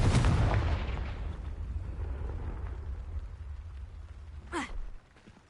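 A fiery Confringo blast spell from the video game Hogwarts Legacy: a loud, booming burst that rumbles and decays over several seconds, followed by a brief crackling swish near the end.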